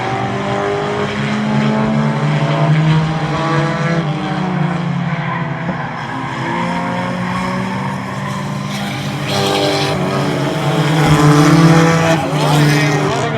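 A pack of race cars at Oyster Bed Speedway drones steadily with rising and falling engine pitch and faint tire squeal, loud throughout, while a commentator speaks over it.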